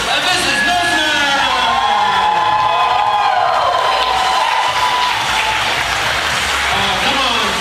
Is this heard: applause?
yes